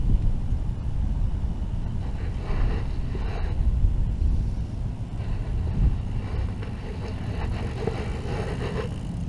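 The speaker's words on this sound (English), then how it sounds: "right here you can really feel that wind" Wind buffeting a microphone on an outdoor trail ride, a steady low roar and rumble with gusty swells throughout and no speech.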